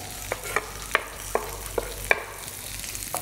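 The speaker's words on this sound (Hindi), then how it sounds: "इनको भी स्टर कर लीजिए, अदरक और लहसुन को हो जाने देते हैं हम फ्रेग्रेंट।" Chopped ginger, garlic and onions sizzle in a hot pan for rava uttapam chutney, with a steady fry hiss and sharp, close scraping clicks as a spoon stirs about every half second.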